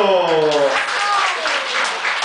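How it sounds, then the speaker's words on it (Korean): A dense wash of applause from a Buddhist college class audience follows a voice trailing off at the start, continuing as steady crowd clapping. "박수!"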